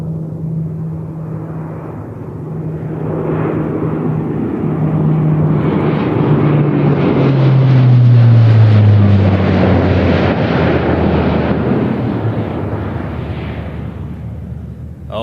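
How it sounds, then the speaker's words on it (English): Typhoon fighter jets flying at low level, a distant roar that swells into a loud, rumbling pass around the middle and then slowly fades away. "Class 2 Typhoons heading to Bala, then Burnway, and then exiting low level"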